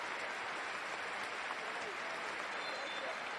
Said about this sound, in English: the Roasso Kumamoto fans applauding their players